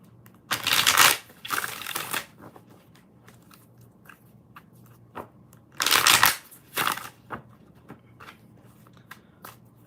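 Tarot cards shuffled by hand in two loud riffling bursts, each followed by lighter flicks and taps of the deck, with quiet gaps between.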